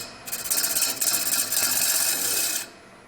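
A lathe tool cuts the outside of a cherry wood bowl, a steady rasping, hissing scrape close by that starts abruptly, holds for about two seconds, then stops, leaving a low machine hum.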